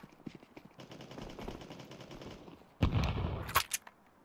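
Rapid automatic gunfire from Counter-Strike, a dense burst of shots rising loud and close after a stretch of quieter game noise, with sharp peaks near the end.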